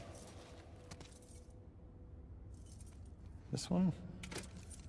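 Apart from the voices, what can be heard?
keys jangling in a video game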